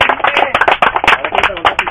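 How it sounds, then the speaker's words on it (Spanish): A church audience at a Christian evangelical sermon claps briefly for a participant, with loud close hand claps in an uneven rhythm and voices mixed in among them. "Un aplauso ahora sí para Darío."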